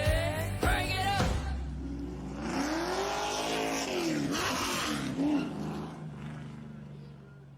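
Race cars at Five Flags Speedway in the East Coast Racing Circuit SLM Series roar and rev, engine pitch sweeping up and down as they pass, mixed with music and a voice.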